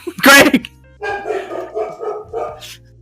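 Men on a podcast imitating dogs with their voices: a loud yelp followed by a string of barking and woofing calls, close to the microphone.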